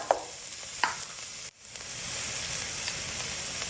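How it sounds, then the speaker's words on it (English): Onions hit smoking-hot oil in a large pot, producing a few sharp spatters and a brief dip, then a steady, even sizzle that swells and holds at moderate loudness. "So the oil is smoking, so it must be hot enough. So I'm going to add the onions."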